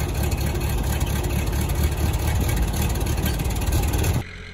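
A low-revving Ford N-Series tractor's gasoline engine runs steadily, a loud, close mechanical drone with a rough throb, cutting off abruptly just before the end.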